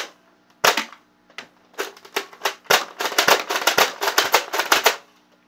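A Nerf toy gun firing in quick succession, sharp snapping shots that start spaced apart and then speed into a rapid volley, loud and close with no talk.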